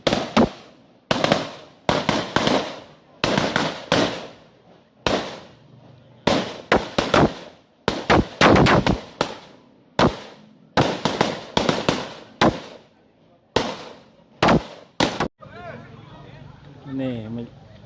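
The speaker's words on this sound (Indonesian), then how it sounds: "menyiapkan dengan suara petasan." A rapid string of loud firecracker bangs in bursts, some crackling in quick succession, with brief pauses between volleys, set off for a village wedding procession; people talk faintly near the end.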